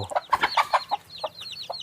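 Laying hens in a chicken coop cluck in a quick run of short, nearby calls, then a few scattered clucks follow over quiet background noise.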